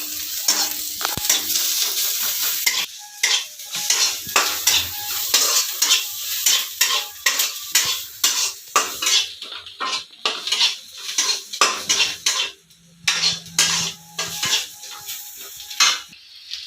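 Onions frying and being stirred in a pan for homemade veg chowmein, with a steady sizzle under repeated clinks and scrapes of a metal spoon against the pan, close and fairly loud throughout.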